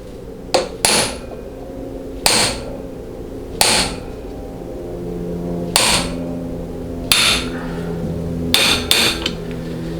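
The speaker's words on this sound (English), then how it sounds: "the report or the sound of the hammer will change to a much flatter tone" Hammer strikes on a bushing driver seating a seal into a GM 6L80 transmission pump during a rebuild; about eight sharp metallic taps spaced irregularly, some in quick pairs, ringing over a low steady hum.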